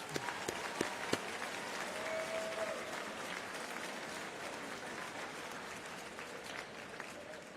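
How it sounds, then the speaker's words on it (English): An audience gives a long, steady round of applause for the scoring team at the 2019 We the People national finals awards ceremony, a dense wash of clapping with a few sharper claps near the start. "So let's give that scoring team one more round of applause."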